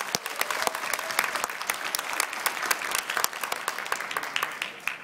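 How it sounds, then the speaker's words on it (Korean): A crowd at a political campaign speech event claps warmly for nine candidates, a dense patter of many hands applauding steadily at moderate volume before tapering slightly. "9명 후보들 따뜻한 박수 좀 보내주십시오"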